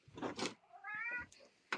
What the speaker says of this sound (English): a cat wants out